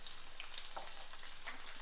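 Dried red chillies frying in hot oil for a tempering, giving a soft, steady sizzle with faint crackles and pops, close and quiet, with no talk.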